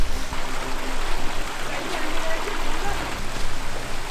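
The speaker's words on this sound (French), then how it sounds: "je crois qu'on va traverser 2 ruisseaux au total" Running water of a small stream being crossed on a walk near an abandoned village with dark slate-like stones, a constant near rushing flow throughout.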